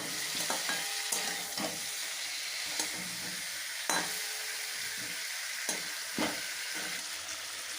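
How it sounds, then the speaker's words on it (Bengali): Papaya and chicken for a chicken stew sizzle in a pan as a spoon stirs them, a continuous bright frying hiss punctuated by occasional scrapes and knocks, close and steady, without speech. "এবার আমি এর মধ্যে দিয়ে দিচ্ছি পেঁপে, যেটাকে কিন্তু আমি আবার চিকেনের সঙ্গে একটুখানি নাড়াচাড়া করে নেব।"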